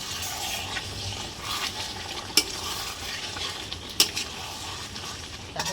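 Masala paste fries and is stirred in a pan with a steady sizzle, a spoon scraping now and then and two sharp clinks against the metal; nobody speaks.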